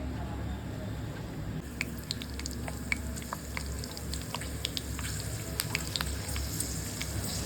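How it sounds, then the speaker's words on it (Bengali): Dried potato pellets for crackers drop into hot oil with scattered light crackles and pops over a low steady background, a faint fry rather than a loud sizzle. "গরম তেলে এখানে আমরা পটেটো প্যালেটগুলো ঢেলে দেব"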